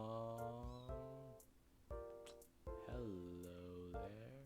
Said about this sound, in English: one kitten in particular is being very loud right now